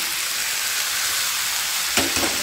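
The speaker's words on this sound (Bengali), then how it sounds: "নাড়িয়ে চাড়িয়ে ভালো করে কষে নেব" Washed rice stirred and fried with spices in a pot for prawn and egg biryani: a loud, even hiss of frying, then a single sharp scrape of the spoon near the end.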